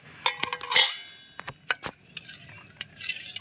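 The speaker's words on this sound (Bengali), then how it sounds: "তো ঢাকাটা খুলে নিচ্ছি।" A lid comes off a pot of rice cooking in the sun on a rooftop, giving a few sharp metallic clinks and clanks with a brief scraping rattle, followed by scattered lighter taps against faint background noise.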